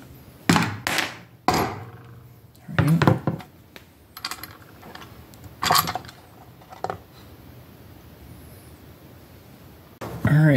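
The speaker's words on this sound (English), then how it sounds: "then we can start popping out all our screws. You do have to use a number 3 Phillips on these" Screws come out of a Yamaha PW50 kick-starter cover under a number 3 Phillips screwdriver, a series of sharp metallic clicks and knocks in bursts with pauses between, close by.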